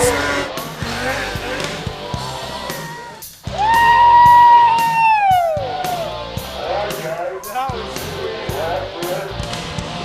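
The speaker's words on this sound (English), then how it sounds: "Hibbert jumps aboard his stock machine and rides it to the top to set the stage for the Stock King runs" A stock snowmobile engine races up a steep mountain hill climb at Jackson Hole, its high-pitched two-stroke whine revving hard, surging to a loud sustained scream and then falling away in uneven bursts.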